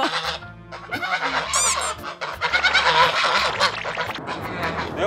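Several domestic geese honk loudly and repeatedly at close range, with overlapping harsh calls in uneven bursts.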